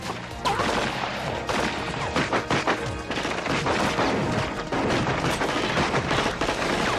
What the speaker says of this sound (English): the Micro Uzi is a semi-automatic, blowback-operated submachine gun